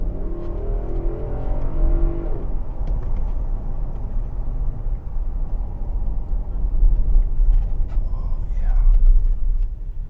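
A Nissan Patrol Royale naturally aspirated V8 accelerates from inside the cabin, a deep, low engine rumble that builds and swells toward the end, with someone talking over the start.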